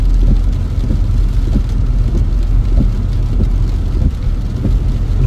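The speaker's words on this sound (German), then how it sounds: "Regen und das nicht wenig." Heavy rain drums hard and steadily on a BMW's body and windscreen while driving, a dense, loud roar with repeated thumping pulses and no talking.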